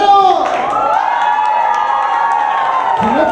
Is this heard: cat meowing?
no